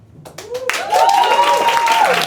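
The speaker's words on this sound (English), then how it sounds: "Round of applause if you live in Barcelona." A crowd bursts into applause and cheering, building quickly and holding steady at a loud level, with a faint voice and whistle-like tone riding over it.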